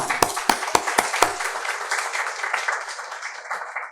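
A lecture audience claps after a talk in a conference series on aging and society, opening with a few loud, close individual claps that swell into a brief round of steady applause before it thins out.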